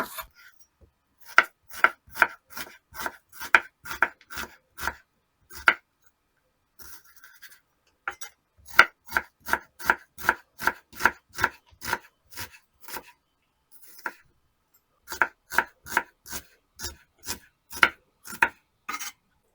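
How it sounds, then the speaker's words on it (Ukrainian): Rapid, crisp knife chops on a cutting board slicing an onion into half rings, in bursts of steady rhythm with short pauses between runs; close and fairly loud, no talking. "Цибулю нарізати напівкільцями."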